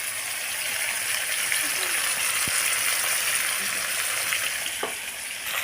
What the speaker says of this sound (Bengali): কড়াইয়ে তেলটা গরম হয়ে উঠেছে। এই যে ইলিশ মাছগুলো ভাজা হচ্ছে দেখুন।